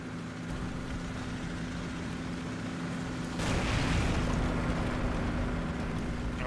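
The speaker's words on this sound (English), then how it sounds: "I can't hear shit due to the tank engine." Tank engine in the World War II video game Forgotten Hope 2, a continuous loud rumbling drone with a steady low hum, briefly swelling as a boom-like burst joins it midway.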